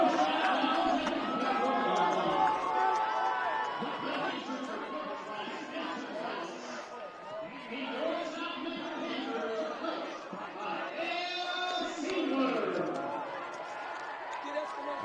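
A crowd at a high school football game between Lakeridge and South Medford at Spiegelberg Stadium fills the air with a continuous murmur of chatter and cheering, while a voice talks over it throughout.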